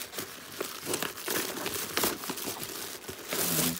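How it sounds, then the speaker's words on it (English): A packaged storage bag is opened by hand, with close, irregular crinkling and rustling of a plastic wrapper in a rapid series of crackles. "Okay, I ordered the storage bag. So I'm going to open that."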